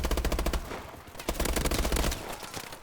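Rapid automatic gunfire in Call of Duty: Advanced Warfare multiplayer, loud dense bursts of shots rattling in quick succession with a short lull partway through, close and with no talk.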